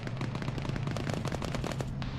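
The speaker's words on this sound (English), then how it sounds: "Oh, I'm shooting at a rabbit." Rapid bursts of automatic gunfire in the military shooter Arma, fired at a rabbit, crackling in a dense, continuous rattle of closely spaced shots for about two seconds with no talk over it.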